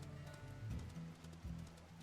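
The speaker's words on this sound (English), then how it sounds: "once again, it's raining and it's all dark and spoochy" Steady rain in the wolf game WolfQuest, a continuous soft patter filling a dark stormy night scene, with low rumbling tones beneath and no voices.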